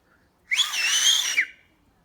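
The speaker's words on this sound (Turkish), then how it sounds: "Islık çaldı mı kaçıyor arkadaşlar." A person gives one loud, sustained, high whistle to drive a hawk away from pigeons. It starts and stops abruptly, with a quiet background on either side.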